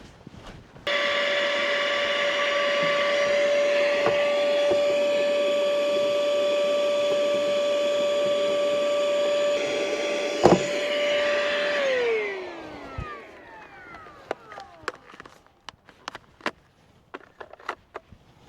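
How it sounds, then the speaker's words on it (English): Vacuum cleaner hoovering leaves out of the pollen filter housing of a Fiat Ducato van: the motor switches on with a steady whining roar, holds for about eleven seconds, then winds down in a falling pitch, followed by scattered clicks and knocks. "So I go and hoover them out."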